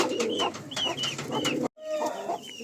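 A loft of Madrasi pigeons, about sixty to seventy birds, fills the air with close overlapping cooing and soft clucking, interrupted by a brief silent break before the murmuring resumes.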